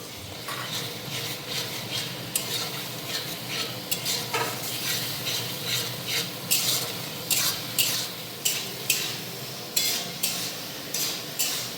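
Spice paste of ginger, garlic, cumin and chili powder with turmeric frying in a pan, a steady sizzle under repeated scraping stirs and spoon clinks that grow more rhythmic toward the end.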